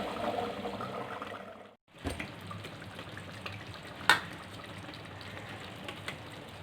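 Kudal kulambu, a goat intestine curry, is poured from a clay pot into a bowl: a wet, sloshing stream, a brief pause, then more splashing and a sharp clink partway through, at close range.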